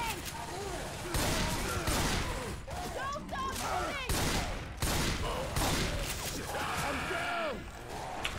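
Gunfire in the video game Left 4 Dead 2, rapid bursts of shots and crashing impacts in quick succession, with players talking over the action.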